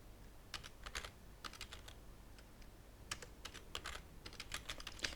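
Someone types a password on a computer keyboard, with clusters of quick, light key clicks in irregular bursts and short pauses between, close and clear over a quiet room.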